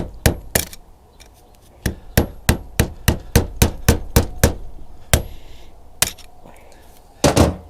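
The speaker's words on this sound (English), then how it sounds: "hammer that ring apart." Hammer blows on a screwdriver driven into the gap of a retaining ring on a Bobcat T590-series Rexroth drive motor, splitting it apart: a steady series of about fifteen sharp metallic strikes, close and loud, with short pauses and a final quick double hit.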